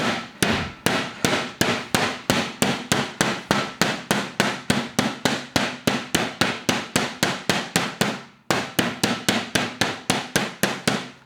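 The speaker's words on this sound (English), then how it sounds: "This is something that can be enhanced by the serrated side of the hammer, and actually I'm gonna do that now." Schnitzel meat pounded with the serrated side of a meat hammer, dozens of sharp, evenly spaced close thwacks in a fast rhythm, with a brief pause before the blows resume.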